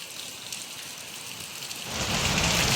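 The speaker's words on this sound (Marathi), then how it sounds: "पावसाने आपल्या कोकणामध्ये हजेरी लावले अगदी जोरदारपणे पावसाने सुरुवात केले" Heavy monsoon rain pours down in Konkan, a dense steady hiss that grows markedly louder and fuller partway through.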